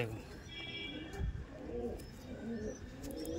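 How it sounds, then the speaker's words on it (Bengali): Soft, low cooing of Andhra pigeons repeats in the background, faint and close-by, with rustling around it. "এই পায়রাগুলো দেখাই, একটু 1 পিস করে দেখাই।"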